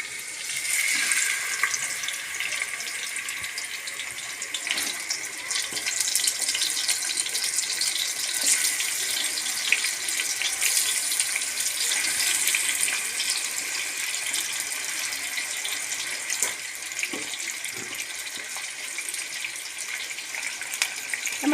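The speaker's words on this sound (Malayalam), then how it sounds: "അപ്പം എണ്ണ മൂത്തിട്ടുണ്ട് അപ്പോൾ അതിലേക്ക് മസാല പുരട്ടി വെച്ചിരിക്കുന്ന ചിക്കൻ നമുക്ക് ഇട്ട് കൊടുക്കാം" Chicken coated in masala sizzles in hot oil, a loud, steady, close hiss of frying that runs unbroken with a few faint clinks and no talk.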